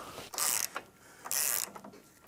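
A ratchet works on a sway bar end link nut for a 1926 Nova project, two loud buzzing ratchet bursts with quiet metallic clicks between them.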